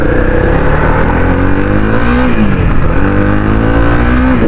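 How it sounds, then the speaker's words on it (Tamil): A 2025 Honda CB300R motorcycle engine revs up close and loud, its steady exhaust note rising and falling through a couple of throttle blips over about four seconds. "ஒரு சின்ன ரெவ் பண்ணி பார்க்குறேன் இந்த வண்டி எப்படி இருக்குது அப்படின்றது."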